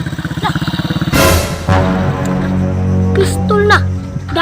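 A motorcycle engine passes close by with a sputtering, pulsing idle at first, then a loud broadband roar that swells and lingers as it goes past, with some clatter and short voice sounds near the end.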